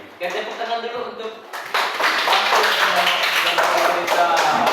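Children in a classroom break into clapping, a dense burst of hand claps that starts softly and then swells loud and steady, with voices talking before and during it.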